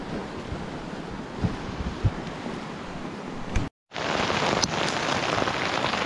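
Hail pelting down during a horseback tour in the Altai, a dense steady rattle with a few louder hits, briefly cut to silence before resuming just as hard.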